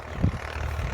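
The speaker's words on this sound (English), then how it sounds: "And there's a tractor running over there." An old tractor engine idles nearby outdoors, a steady low rumbling drone with a slight thump near the start.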